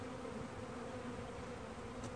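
Honey bees just installed from a package into a hive buzz in a faint, steady drone that runs unbroken throughout, alone with no voices.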